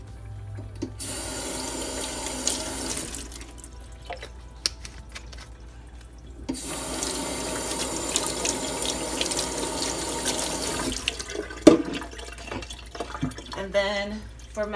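Tap water poured into an Aerogarden hydroponic unit growing heirloom lettuce, a steady close splashing trickle with short pauses, ending in lighter drips and small handling knocks.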